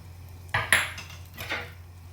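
A spoon stirs ghee-fried dry fruits into carrot halwa in a pot, giving a few soft scraping clinks: two close together near the start and a fainter one after, over a low steady hum.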